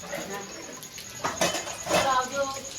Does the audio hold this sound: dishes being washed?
yes